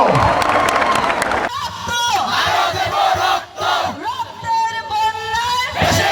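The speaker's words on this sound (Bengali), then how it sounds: "সকলে একটু জোরে করতালি দেয় তার জন্য" A large crowd at an outdoor political rally in Munshiganj, Bangladesh claps loudly at first, then the applause gives way to sustained shouting and chanting voices that carry on throughout.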